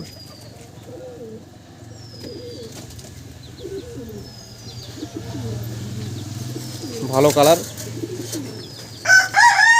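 Andhra Madrasi pigeons coo softly in a loft, low rolling calls repeating under quiet background noise, with brief wing flaps and louder fluttering near the end while someone speaks briefly.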